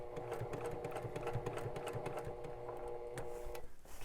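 A sewing machine stitching fabric at a 2.5 stitch length with a quarter-inch foot, running in a fast, even mechanical patter of needle strokes that continues steadily and close by, then stops near the end.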